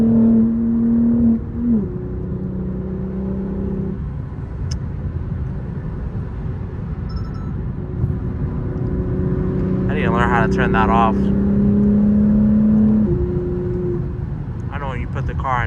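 A BMW M4 Competition fitted with a new downpipe burbles and rumbles from its exhaust, a low steady drone broken by crackling pops, while someone talks over it close by.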